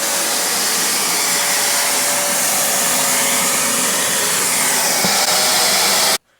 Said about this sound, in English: We're going to push the on-off switch and vacuum it up.